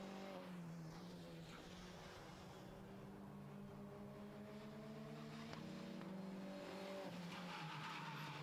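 Clio Cup race cars at Slovakia Ring circuit during a TWC race, with rear tyres locking up: a constant engine roar with shifting pitch lines and squealing tyres over a continuous, fairly distant broadcast-style track din, no voices.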